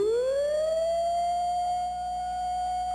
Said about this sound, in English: That's the sound you'd hear in the event of a tornado or other disaster.